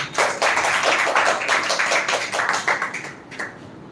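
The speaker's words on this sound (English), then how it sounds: "Why don't you clap everyone?" An audience claps at the end of a speech at a spoken English session, a dense burst of many hands applauding together, loud and close before thinning out near the end.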